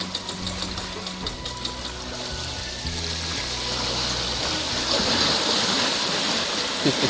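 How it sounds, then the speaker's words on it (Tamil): Water runs with a steady rush that grows louder and fuller over several seconds, backed by a low mechanical hum in the first half, with no talk. "தண்ணி போடுவோம்."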